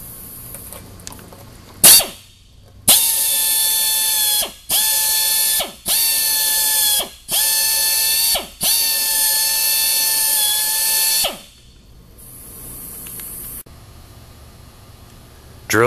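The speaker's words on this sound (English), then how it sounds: "Drill the injury from the inside of the tire following the angle of injury." A low-speed drill with a carbide cutter boring a tire injury from the inside, a loud whirring grind in five or six repeated bursts separated by brief pauses.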